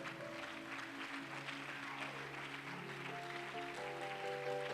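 Applause from a church congregation praising the Lord, a steady patter of clapping carrying on throughout with sustained organ-like tones beneath it.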